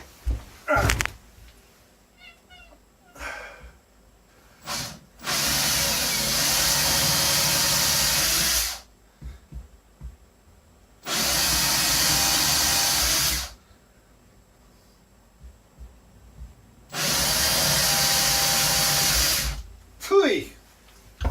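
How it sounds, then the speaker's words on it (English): A power drill runs in three long bursts of several seconds each, loud and close, drilling holes for a TV mount inside a shuttle bus RV conversion, separated by pauses with clunks, handling noise and brief talk. "I'm going to go ahead and drill for that TV mount."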